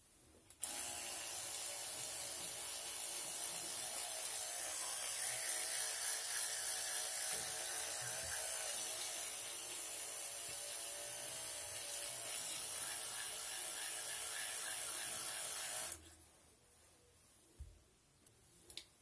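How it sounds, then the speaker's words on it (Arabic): Teeth being brushed, a close, steady scratchy bristle scrubbing that runs continuously for about fifteen seconds and then stops, leaving a few faint knocks and no talking. "غادي نحك سناني"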